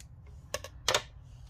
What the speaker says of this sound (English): let's just cut it down here a little bit